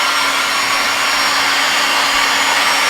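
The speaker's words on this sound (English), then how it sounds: "I'm going to dry it off with a hairdryer to show you." A hairdryer blows on a customised Thomas model, giving a steady, close, even whirring rush that holds without a break.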